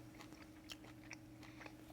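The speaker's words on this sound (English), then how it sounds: "Can you hear this crunch?" Crunchy bites into charcoal-grilled ribs: a few sharp, crisp crunches spaced across a couple of seconds, close up and quiet over a low steady background hum.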